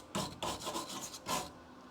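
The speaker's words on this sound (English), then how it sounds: "I'm just hitting this side with the wire brush to make sure there's no pinholes or anything" A wire brush scrubs bare metal on a Charger car body, several quick rasping strokes close by with a scratchy broadband hiss, no voices.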